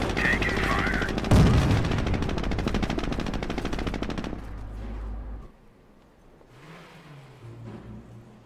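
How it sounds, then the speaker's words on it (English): Machine guns chatter in a Company of Heroes skirmish battle, a loud dense burst of rapid automatic fire for about four seconds before it cuts off, leaving a low engine rumble and faint distant sounds. "Taking fire."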